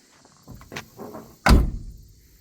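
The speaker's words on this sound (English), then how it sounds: "Watch how these doors close." A 1969 Chevelle barn-find survivor's door swings and shuts with a single solid, heavy thunk, preceded by a few soft latch and handling clicks, close and clear with no talking.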